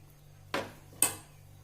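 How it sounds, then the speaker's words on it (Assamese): A utensil knocks twice against a pot while salt is stirred into leftover whey during home cheesemaking: two sharp, close metallic clinks about half a second apart over a quiet background hum. "তাক অকণমান গুলি ল'ম, নিমখখিনি যাতে মিক্স হৈ যায়।"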